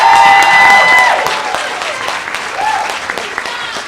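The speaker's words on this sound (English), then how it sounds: "now join me in giving all of our graduates a round of applause." A crowd at a GED graduation ceremony applauds the graduates with dense, steady clapping. The applause starts loud, eases off after the first second and keeps going at a lower level, with voices mixed into it.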